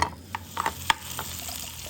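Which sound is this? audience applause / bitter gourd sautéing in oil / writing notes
bitter gourd sautéing in oil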